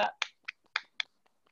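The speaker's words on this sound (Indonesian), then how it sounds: "Tepuk tangan dulu buat Zahwa." A handful of sparse, sharp claps from a small audience at a children's environmental learning-centre session, five or six separate close hand strikes spaced irregularly and fading to faint taps.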